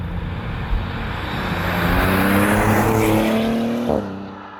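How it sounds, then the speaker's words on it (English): Maserati GranTurismo Trofeo with its Nettuno V6 driving on the road, engine note climbing steadily through the revs before a gearshift, then easing off; close and loud with no talking. "This is powered by Maserati's Nettuno V6, the first in-house engine the brand have made in decades"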